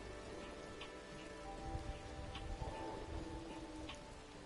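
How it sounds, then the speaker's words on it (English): Steady rainfall in the Fallout video game world, a soft, continuous patter of drops on surfaces with scattered ticks, quiet and even throughout with no voices. "Oh, it's raining here."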